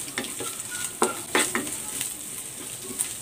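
Dried chili hitting hot oil in a pan for an okra stir-fry, a steady close sizzle with a few sharper crackles and spoon-stirring scrapes, no talking.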